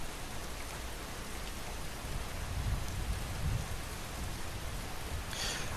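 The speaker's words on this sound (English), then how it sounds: "the rain in my headset's like incredibly loud" Steady heavy rain in the Skyrim video game, a dense continuous hiss with low rumbling swells, loud and unbroken throughout with no voices.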